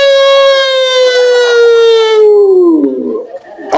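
A man imitates a wolf's howl with his voice, a single long sustained wail that slowly falls in pitch over several seconds and trails off into a rough breathy end, loud and close with no other talk.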